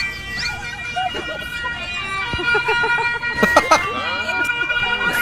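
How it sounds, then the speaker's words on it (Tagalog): An ambulance siren wails in the distance over traffic noise, its rising and falling tone sweeping repeatedly while a vehicle horn toots nearby. "Ay, banto ng ambulansya dyan ah."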